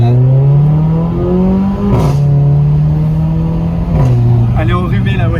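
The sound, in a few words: car engine accelerating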